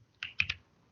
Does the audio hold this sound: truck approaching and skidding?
no